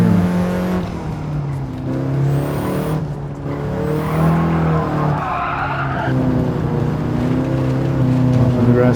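Race car in Gran Turismo 7 with a steady, loud engine drone and gear-shift pitch changes, skidding and tire scrub woven through as it accelerates hard out of a curve and runs onto grass.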